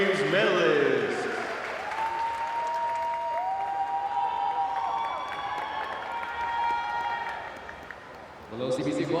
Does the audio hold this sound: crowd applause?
yes